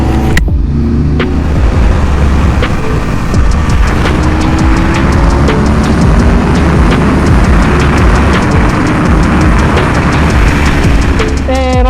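Several motorcycles ride together through city traffic at sunset, a loud, continuous engine drone with wind rush and passing vehicles filling the whole stretch, no talking.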